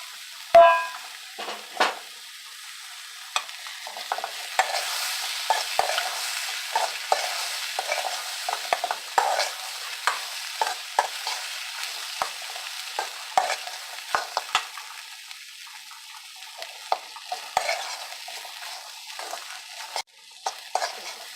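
Black-eyed pea sundal being stirred and fried in a pan, with steady scraping spoon strokes over a soft continuous sizzle, the scrapes coming in irregular bursts throughout.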